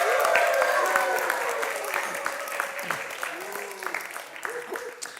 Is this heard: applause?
yes